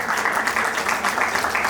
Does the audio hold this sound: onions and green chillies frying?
no